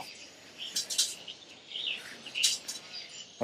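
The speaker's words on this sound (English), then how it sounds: "this sound is pre-recorded to attract the birds to build their nest inside" Pre-recorded bird calls played to attract nesting birds at a night market in Kota Bharu sound as short high chirps and twitters in brief clusters, faint and somewhat distant over a low murmur.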